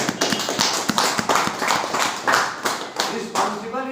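Audience clapping at a gathering when a man named Rakesh is honored, loud, close, rhythmic claps in a fairly even beat, with voices mixed in.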